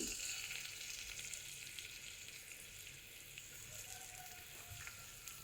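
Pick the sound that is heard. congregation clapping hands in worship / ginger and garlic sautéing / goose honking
ginger and garlic sautéing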